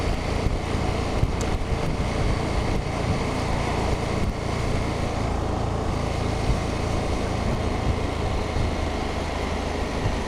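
KTM 1290 Super Adventure S motorcycle riding at speed, a steady loud roar of engine and rushing wind buffeting a fur-muffled microphone, continuous throughout with no speech.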